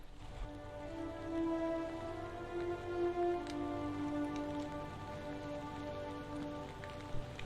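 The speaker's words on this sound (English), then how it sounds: "And it starts raining again." Steady rain patters on foliage along a hiking trail at Turkey Creek Preserve near Gainesville, a close, even hiss that swells slightly in the middle, with faint tonal hum underneath and no talking.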